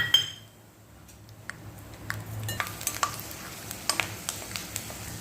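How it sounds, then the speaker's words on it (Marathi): Peanuts frying in oil for a fasting-day thali, giving a soft steady sizzle with scattered light clinks and taps of a utensil against the pan, close and quiet. "त्यासाठी आपण शेंगदाणे तळून घेऊया."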